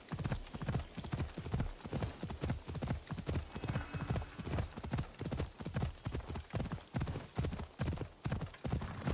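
A horse in the Assassin's Creed Odyssey video game trots with steady, rhythmic clip-clop hoofbeats, close and clear for the whole stretch, with no voices over them.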